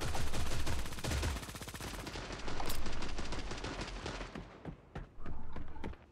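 Rapid sniper rifle gunfire in the shooter game Creative Destruction, a dense loud volley of sharp shots at first, thinning into separate cracks with short gaps toward the end.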